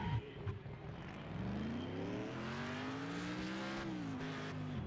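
A game car in Next Car Game revs up with a rising engine whine and squealing tires, the pitch climbing and holding steadily as it accelerates, with a few knocks at the start.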